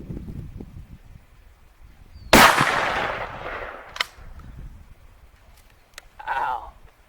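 Shotgun firing 1 ounce slugs at jugs set out at 245 yards, one sharp loud blast followed by a long rolling echo, then a fainter crack and scattered outdoor noise and movement.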